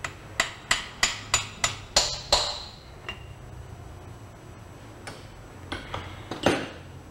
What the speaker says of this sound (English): push it in, hammer it, until you hear the sound when it actually seats itself